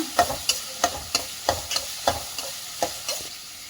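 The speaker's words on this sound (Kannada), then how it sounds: "ಚೆನ್ನಾಗಿ ಫ್ರೈ ಮಾಡೋಣ." Chopped carrot and onion stir-fried in a pan for pongal, with a steady run of spatula scrapes and stirs roughly every third of a second over a faint sizzle, close and alone.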